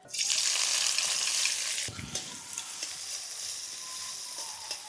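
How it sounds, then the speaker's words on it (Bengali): Chopped onions hit hot oil for a katla fish kachori filling. A loud burst of sizzling opens the clip, then drops to a steady, softer frying hiss close by. "প্রথমেই তেলের মধ্যে দিয়ে দিচ্ছি পেঁয়াজ কুচি"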